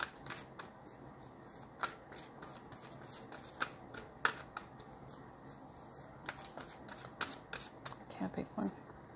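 Tarot cards shuffled by hand in a steady run of crisp, close riffling bursts and flicks, some strokes louder than others, with a soft voice faintly underneath.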